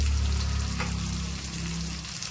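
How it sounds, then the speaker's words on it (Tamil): Garlic and small onions sizzling in a pan for a lake-fish curry, a steady close hiss of frying with a low rumble underneath and no talk. "பூண்டு வெங்காயமும் வெங்காயமும் போட்டுக்கலாம் நல்லா வதக்கிடுங்க"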